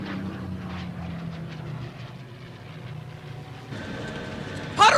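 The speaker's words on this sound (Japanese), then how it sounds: "パロの飛行機だ。" A propeller airplane drones steadily in a 1986 animated fantasy film, a moderate rumbling hum that shifts in tone midway and ends with a brief sharp burst.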